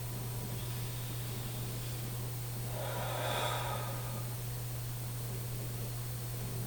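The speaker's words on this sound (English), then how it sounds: "Then take a deep breath." One slow, deep breath, a soft airy rush rising and fading near the middle over a steady low hum in a quiet room, with no one speaking.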